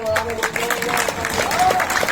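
An audience claps at a village Ramleela stage performance on the Ram Vivah night, giving a short burst of continuous applause mixed with crowd noise and some voices.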